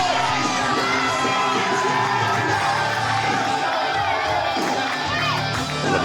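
A packed wrestling crowd at the Polyfield Community Centre roars and cheers for Lucky during a one-on-one match, with children's shouts and whoops on top of a constant loud din.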